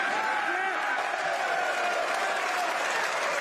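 A studio audience cheers and applauds in a steady, dense wash of clapping and whooping that holds at an even level throughout.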